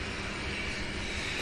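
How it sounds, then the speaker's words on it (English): A UPS MD-11 cargo jet gives off a steady, faint, distant engine rumble with a hissing edge, holding even for a brief moment. "Next up, this MD-11 UPS 2075."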